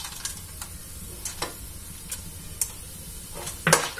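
Hot spiced tempering sizzles as it is poured over puffed rice for a spicy kara pori snack, a steady soft crackle broken by sharp ticks and a louder burst of spattering near the end.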